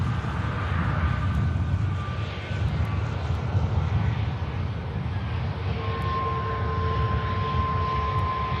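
A Jet2 airliner bound for Tallinn enters the active runway at Manchester Airport, its engines producing a steady, broad roar with faint whining tones throughout.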